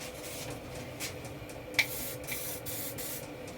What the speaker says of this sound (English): we're going to just spray that across the surface